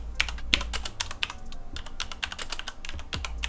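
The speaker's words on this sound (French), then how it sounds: "Ce Strafe MK2 reste néanmoins un clavier mécanique, et donc forcément, ça fait du bruit." Quiet mechanical typing on a Corsair Strafe RGB MK2 keyboard with Cherry MX Silent switches: a steady run of soft, close keystrokes with occasional heavier thumps, no voices.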